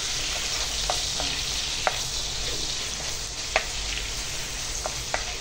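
Garlic fries in a pan for sautéed bitter melon, a steady close sizzle broken by a few sharp clinks as a ladle stirs it. No one speaks.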